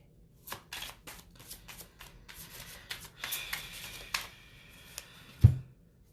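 Tarot cards being shuffled by hand, a quiet close sequence of repeated riffling bursts and soft card slaps with no talking, ending in a brief thump.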